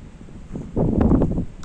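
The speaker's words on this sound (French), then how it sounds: "On a toujours un vent de dingue." Gusty wind buffets the microphone, a low rumbling roar that starts mild and swells louder partway through, with no voices.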